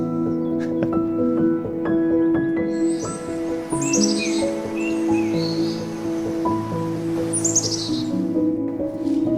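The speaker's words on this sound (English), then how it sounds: "We've got the birds, we've got the sun setting for the night." Birds chirp and sing steadily outdoors at sunset over a dense chorus, with many overlapping calls, some high whistled trills standing out near and clear.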